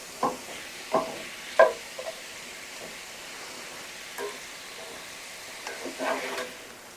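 Garlic and peppers stirred in a chili pot, a soft scraping and light sizzle with a few distinct stirring strokes early on, then quieter shuffling later, all fairly faint with no talking.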